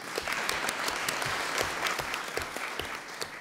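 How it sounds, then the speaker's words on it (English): A conference audience bursts into applause, dense clapping with sharp individual claps standing out, sustained evenly throughout with no speech. "round of applause, please."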